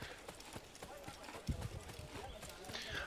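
Faint, quick hoofbeats of a horse clip-clopping along in the game Assassin's Creed, a loose, quiet rhythm with a slightly louder thud partway through.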